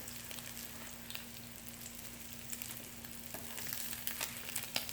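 Homemade crab cakes sizzle and crackle steadily in a hot frying pan as they are turned, with a low hum underneath and a few sharper pops and spatters toward the end.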